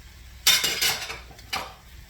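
Sausage dropped into a hot pan for a farfalle dish with chicken livers and sage, giving two sharp bursts of sizzle and clatter against the metal that fade between them, close and fairly loud with no talk.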